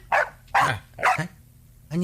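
A dog in an Ilocano comedy drama barks four times in sharp, loud, close bursts spaced about half a second apart.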